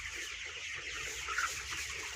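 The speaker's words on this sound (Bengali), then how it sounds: "এই যে একটা মুরগি অসুস্থ, এটা অসুস্থ হয়ে গেছে।" Clucking from a sick broiler chicken on a poultry farm, a steady low murmur of hen sounds with one brief louder squawk near the middle, no talk.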